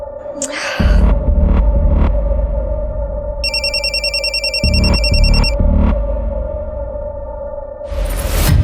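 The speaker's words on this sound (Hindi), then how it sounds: "ये विकी का फोन क्यों नहीं लग रहा है?" A telephone rings in a steady electronic trill, one long burst in the middle over a droning hum and low rumbling background.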